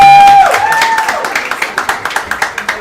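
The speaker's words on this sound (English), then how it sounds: "Give them a round of applause." A short tonal sound opens, then a few people clap in a steady, rhythmic beat for the girls lacrosse team captains during a live broadcast from a pub, with the individual claps distinct and close.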